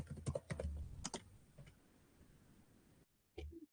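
Someone types on a computer keyboard in quick bursts of clicky keystrokes, then a lull of sparse taps, a brief silence and a final cluster of keys near the end, quiet and close with no talking.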